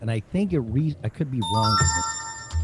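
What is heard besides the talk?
mobile phone ringing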